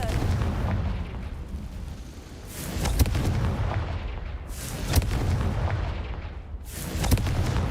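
Confringo fire spell explosions in Hogwarts Legacy: three deep booming blasts spaced a couple of seconds apart, each with a rumbling tail, loud and full-bodied.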